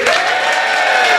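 A studio audience breaks into sustained clapping and some cheering for a live show vote, loud and continuous across the whole moment.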